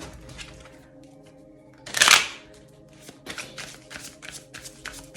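Tarot cards shuffled by hand in a quick, loud riffling burst partway through, with soft handling rustles before and after; nobody talks.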